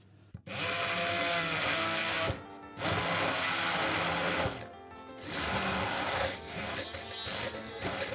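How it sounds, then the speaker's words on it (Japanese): An immersion blender whirs through a paste of sake lees, mirin, garlic and ginger, running loud in three long bursts separated by brief pauses, with a lower, grinding tone toward the end. "あとはブレンダーで混ぜるだけです"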